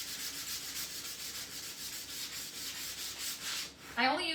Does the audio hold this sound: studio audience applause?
no